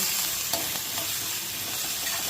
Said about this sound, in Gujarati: મરચાં એડ કરીને મિક્સ કરવાનું છે.